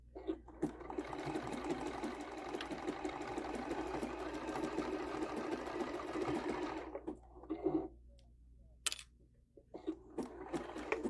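A sewing machine runs steadily for about seven seconds while stitching a quilt-as-you-go table runner, then stops and gives a few short, close bursts of clicks and taps.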